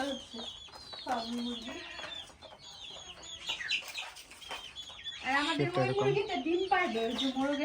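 Native desi chickens and roosters on a farm cluck and call repeatedly up close, with busier overlapping clucking in the second half and some talk mixed in.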